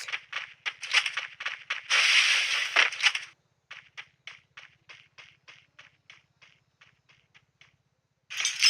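AWM sniper rifle fire in a shooting video game: a cluster of loud sharp reports, then a rapid run of regular, softer clicking bursts that fade before a final loud burst.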